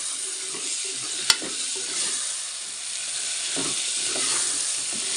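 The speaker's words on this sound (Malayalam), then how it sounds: "ഇനി എല്ലാം കൂടി ഒന്ന് ഇളക്കി യോജിപ്പിക്കുന്നുണ്ട്" Diced potatoes with tomato masala get stirred in a hot pan: a soft, constant sizzle with one sharp utensil clack and a few muffled scrapes.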